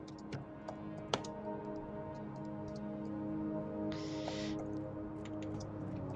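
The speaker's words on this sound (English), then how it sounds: "Typing intensifies." Quick, light keystrokes on a computer keyboard, scattered in irregular bursts over a steady music bed from the game Kingdom: Two Crowns.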